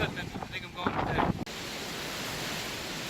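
Strong wind whips across an exposed mountain trail during a wind storm, buffeting the microphone in a loud, steady rush after a short gusty stretch at the start.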